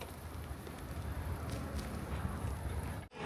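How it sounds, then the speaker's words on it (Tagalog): Low, rumbling wind buffets the microphone in uneven gusts, fairly faint, before cutting off abruptly at the end. "Tapos narinig ko na lang ang hangin."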